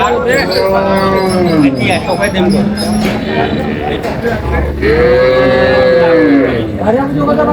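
Cattle, including improved-breed dairy cows and calves, mooing at a busy rural livestock market in Dinajpur; several loud, drawn-out moos close by, with crowd chatter and voices underneath.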